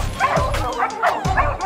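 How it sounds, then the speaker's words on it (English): Three dogs on an evening ridge ride bark and yip in quick overlapping bursts, close and loud, with whimpering tones between the barks. "There's three dogs."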